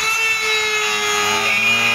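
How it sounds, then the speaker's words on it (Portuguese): A micro rotary tool fitted with a small burr file grinds steadily into jatoba hardwood, a loud continuous high-pitched whine with a faint wavering tone through the whole stretch, no voices. "Isso aqui corta, galera. Isso aqui é madeira dura, galera. Isso é jatobá, olha aí, ó. Mas é cortar mesmo,"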